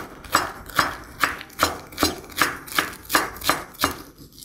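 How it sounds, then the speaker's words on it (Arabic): Knife chopping Swiss chard and onion on a cutting board, with about nine steady, evenly spaced strikes, close and crisp, and no talking. "هقطع مع البصل شوية سلقة"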